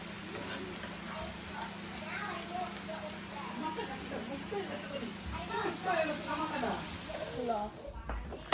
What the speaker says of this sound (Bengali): ফোড়নের জন্য বেগুন আলু ডিম এগুলো ভাজা হচ্ছে